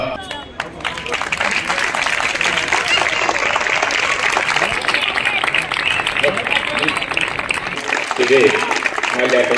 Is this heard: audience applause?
yes